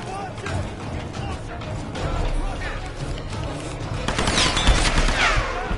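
Rapid gunfire crackles and mechanical clatter from the video game Tomb Raider 2013 play throughout. Shots fire in busy volleys under a voice talking over the action.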